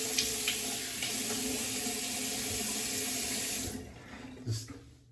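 Faucet running into a bathroom sink, a steady close hiss of flowing water that cuts off near the end, followed by a few faint drips and clinks.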